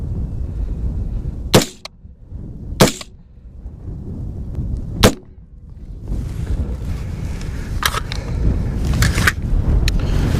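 Three sharp gunshots from Winchester white-box target and practice rounds at an outdoor range, fired from a PSA Dagger pistol or Diamondback DB15 rifle, spaced a second or two apart, with wind noise and fainter distant shots later.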